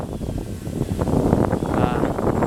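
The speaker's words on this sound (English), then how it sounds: "The wind is blowing it around." Wind gusts steadily against the microphone during an outdoor flight of an MJX Bugs 3 RC drone, a constant low rumbling roar that swells slightly toward the end.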